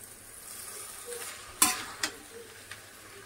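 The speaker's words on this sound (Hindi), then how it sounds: "ऊपर नीचे करके इसको बहुत अच्छे से हमको चलाना है ना" Veg noodles are tossed in a hot pan over a faint, steady sizzle, with a few soft utensil clicks and scrapes as they are stirred.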